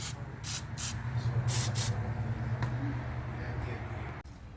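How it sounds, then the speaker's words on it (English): Penetrating fluid is sprayed onto wheel hub bolts of a 2005 Ford Escape / Mazda Tribute in several short hissing bursts, close by, over a low background hum. "spray some of these bolts with some penetrating fluid"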